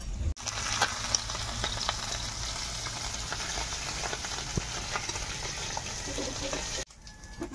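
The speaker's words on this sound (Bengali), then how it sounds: "মরলো মাছ ভাজা হয়ে গেছে" Small mourola fish fry in hot oil in a pan, producing a steady close sizzle that runs without a break and then cuts off abruptly near the end.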